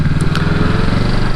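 A motorcycle engine running steadily at low revs through a slow U-turn, a loud, close, continuous throbbing drone with no pauses.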